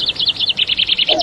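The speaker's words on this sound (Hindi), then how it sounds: "चिड़िया बोली चुन चुन चुन, चुन चुन चुन, चुन चुन चुन" A small bird chirps in a quick, even string of bright tweets, close and clear, with a brief low tone entering at the end.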